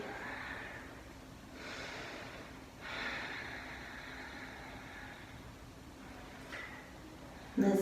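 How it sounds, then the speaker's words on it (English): Slow, soft Ujjayi yoga breathing, a faint ocean-like hiss in drawn-out inhales and exhales with a quiet room hum behind it. "focus on your Ujjayi breath, that ocean sound breathing."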